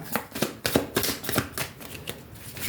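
Cartomancy cards riffled and shuffled in quick bursts, a run of crisp papery flutters and slaps repeating at an uneven rhythm, close and fairly loud with no voice over them.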